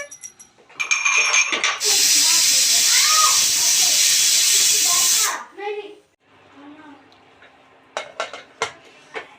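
A pressure cooker steaming vegetables lets out one loud, sustained hissing whistle lasting several seconds, followed by clinking of pots and utensils in a kitchen.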